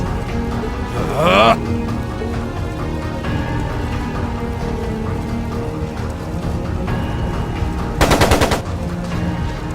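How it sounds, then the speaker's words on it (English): Machine gun fire from the video game Trails of Cold Steel, two sharp rapid bursts rising over game music and ambience, the second burst louder near the end. "It sounded like a machine gun."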